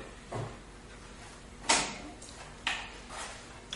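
Door of a Raimondi Bull Dog bullnose stone-edging machine swinging open in a workshop, giving a few short knocks and clatters of the metal guard, with a sharp bang near the middle and a lighter one after.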